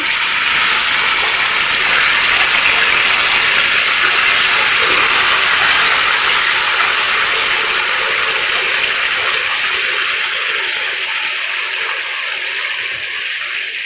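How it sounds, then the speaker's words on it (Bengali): Water hits a hot pan while sugar cooks for zarda, bursting into a loud, rushing steam hiss that stays strong and then slowly eases off over about fourteen seconds. "পানি দিয়ে দিচ্ছি।"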